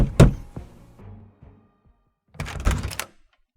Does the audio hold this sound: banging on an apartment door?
yes